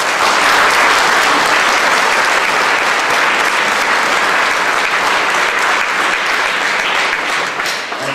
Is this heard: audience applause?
yes